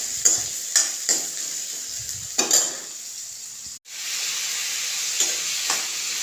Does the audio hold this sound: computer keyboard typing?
no